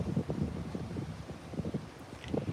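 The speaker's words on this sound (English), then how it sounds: "And the wind is really nice today. It is really nice and cool. Like so cool. You can see it's blowing." Wind blowing steadily outdoors on a cool day, a low rumbling gust noise buffeting the microphone throughout, with faint rustling and a few soft thumps close by.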